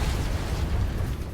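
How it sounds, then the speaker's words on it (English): A loud explosion in the War Thunder combat flight game, a dense broadband roar filling the whole short moment at steady strength. "Apologies for the loud explosion."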